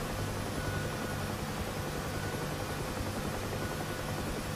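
UH-1H Huey helicopter in a flight simulator game, a steady broadband rotor and turbine roar with a low pulsing throb, loud and constant throughout with no talk.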